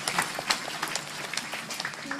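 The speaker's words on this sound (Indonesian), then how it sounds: "Kita kasih aplaus dan tepuk tangan pada perjuangan." An audience at a Hindu community gathering in Indonesia claps and applauds, a short burst of fairly close clapping from a crowd with voices mixed in.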